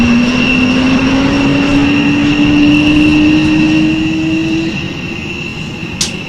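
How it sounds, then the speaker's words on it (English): A 3-ton light utility helicopter with a single engine makes a high-speed run at the Aero Show 2019 air show. Its loud, steady turbine roar carries a rising whine that drops away near the end. "here we have in front of us the light utility helicopter performing a high-speed run"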